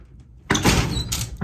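A bedroom door swings open with a loud, close rush of movement and a brief rattle, then a second bump follows. No one speaks.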